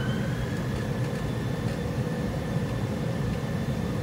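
Airbus A320 jet engines spooling at takeoff power in a flight simulator, a steady, loud broadband roar with a low rumble and faint tonal whine held evenly throughout, no talk.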